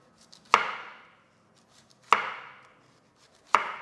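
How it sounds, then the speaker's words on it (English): A knife slices through zucchini on a cutting board in three sharp, well-spaced chops, each a crisp close thud with a short ringing tail against a quiet background. "I start to cut the zucchini. We make them slices"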